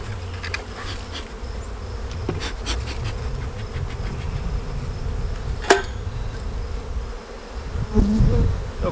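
A steady, close buzzing of many honey bees at an open hive fills the air, with individual bees droning past the microphone now and then.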